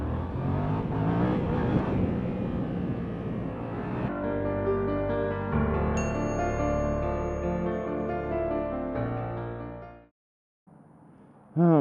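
A motorcycle engine revs hard as the rider pulls a wheelie, rising through gears in a loud, close, steady drone before cutting out abruptly, followed by a brief burst of wind.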